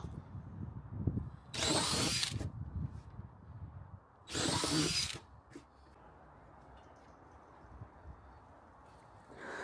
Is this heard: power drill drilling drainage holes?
yes